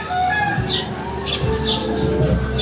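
Racing pigeons arriving at the loft after a 36 km club training flight, with several short chirps and a low coo standing over a steady outdoor background hum, fairly close.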